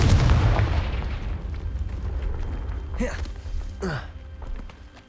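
A Confringo explosive spell blast in the video game Hogwarts Legacy, a loud booming burst at the start that decays into rumble, followed by two whooshing magical sweeps, with no speech over it.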